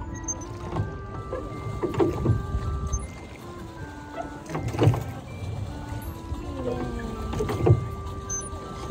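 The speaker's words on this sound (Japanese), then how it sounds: "ボートで今リオナが漕いでくれてます。" Oars dip and splash in a steady rhythm as a small boat moves through water, with faint knocks and distant background noise.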